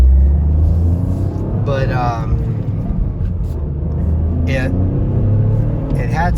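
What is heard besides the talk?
Toyota GR Corolla turbo engine accelerating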